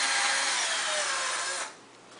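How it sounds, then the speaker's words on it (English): A power drill bores a hole through a rubber chair tip. It whines steadily and loudly, close up, then cuts off abruptly toward the end. "Now we're going to take our chair tip and our power drill once again."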